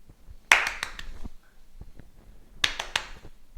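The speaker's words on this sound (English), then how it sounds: "Every time you clap, you count and keep going." Hand claps in two quick bursts, each a run of about five sharp, close claps, separated by a quieter stretch with a few faint taps, as in a children's at-home tennis ball catching drill.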